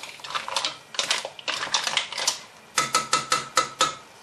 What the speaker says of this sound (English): You give it a good stir around so that the onions and the mussels all mixed in